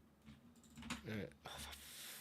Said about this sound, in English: what is with my big fingers just pressing every button on the keyboard